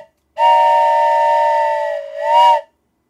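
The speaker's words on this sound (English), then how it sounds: "And JJ has claimed a train whistle for 50 hellish points." A train whistle from an OpenTTD game blows one long, loud, steady tone, dips briefly, then sounds a shorter second blast before cutting off into silence.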